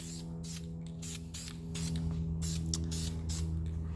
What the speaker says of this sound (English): I'm gonna go ahead and just spray a little bit of this on here, just kind of mist it